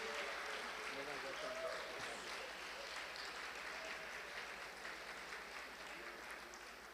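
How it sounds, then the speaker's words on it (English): Applause in a hall as Madam Parveen Akhtar enters, a soft, distant, continuous patter of clapping that slowly fades, with faint voices beneath. "A huge round of applause for this lady"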